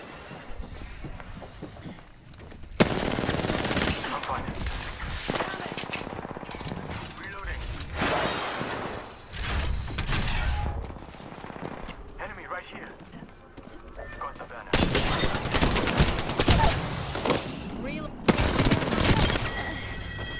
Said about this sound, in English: Those were the most perfect longbow shots I've ever seen in my life.